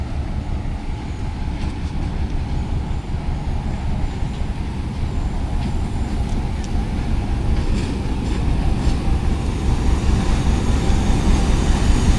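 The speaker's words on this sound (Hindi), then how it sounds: "47 अब रहमान बाबा एक्सप्रेस कराची से पेशावर के लिए" Rahman Baba Express from Karachi to Peshawar rolling past at Attock City Junction in hot weather, a loud continuous low rumble of wheels and carriages that grows slightly heavier over time, with faint rattles and clanks, close by.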